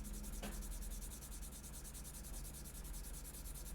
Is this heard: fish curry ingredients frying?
no